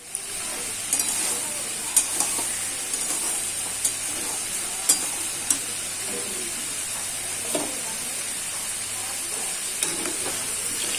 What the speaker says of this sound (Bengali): আমি খিচুড়ির জন্য ডালটা ভেজে নিই